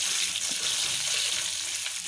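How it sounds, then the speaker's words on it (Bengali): Potato pieces fry in hot oil in a pan, giving a steady, close, hissing sizzle throughout the short stretch. "এবার আমি আলুগুলো ভেজে নেব।"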